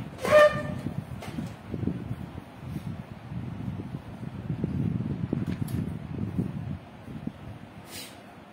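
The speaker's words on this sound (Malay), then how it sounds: "Suara clear, ada gangguan bunyi kipas." A steady low whirring hum, like a fan running, continues throughout, with a few faint clicks on top.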